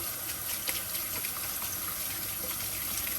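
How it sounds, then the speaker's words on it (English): Cold tap water runs steadily from a kitchen faucet over freshly cooked pasta in a sink, a continuous close splashing hiss with no talk. "I'm also gonna run some cold tap water on it for it to stop cook."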